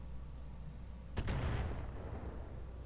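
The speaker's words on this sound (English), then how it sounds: "You shoot those LRMs." A volley of LRM missiles launched in the Roguetech mech video game: one quick double thump followed by a rushing, fading roar, heard faintly over a low steady background hum.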